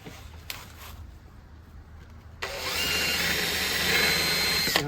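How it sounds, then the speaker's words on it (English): Power drill fitted with a spade bit boring through fiberglass, a handle-mounting job on a small teardrop camper; faint rattling at first, then a loud, steady high-pitched whine from the bit cutting through the panel for the last half. "In the instructions they show I'm using a spade bit or a Forstner bit."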